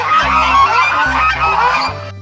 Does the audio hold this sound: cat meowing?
no